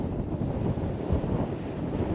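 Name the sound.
strong wind at the beach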